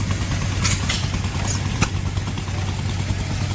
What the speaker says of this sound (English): The Gould's 3-cylinder single-acting water pump. And it's connected to a vertical cylinder inverted engine.